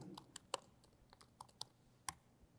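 Quiet, scattered keystroke clicks on a computer keyboard, irregular and close by, with pauses between short bursts of typing.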